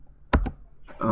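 Keystrokes on a computer keyboard while entering router commands, a couple of sharp close clicks followed by another burst of typing, with no talk over them.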